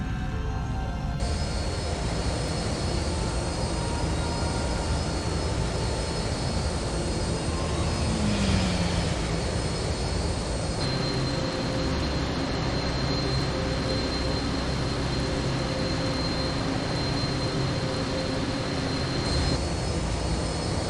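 Attacking ships flying around a tram on Corellia in a Star Wars Jedi Knight video game, a steady loud roar of engines with a whooshing pass near the middle, continuous throughout with no talking.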